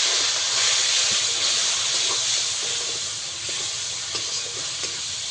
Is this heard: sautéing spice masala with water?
yes